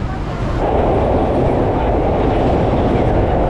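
A Tokyo metro train rumbles along from inside the car, a loud, steady roar of wheels and motors that holds constant throughout.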